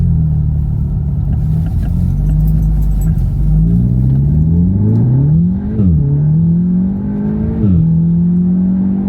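An Audi S3 8V fitted with a billet aluminium dogbone mount insert accelerates hard, its engine note rising steadily and dipping at gear changes. The engine drone is loud and close, with no talk.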